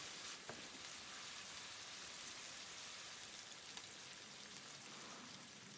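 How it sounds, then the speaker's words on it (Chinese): Cut lamb stir-fries in a pot, giving a steady, dense sizzle that holds through the whole stretch with a few faint scraping stirs beneath it. No one speaks over the frying. "加入切好的羊肉， 接着进行翻炒。"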